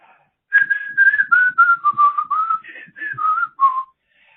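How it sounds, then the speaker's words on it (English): A person whistles a cheerful tune close up, a steady run of clear notes that mostly step downward, then stops. "I just want to whistle."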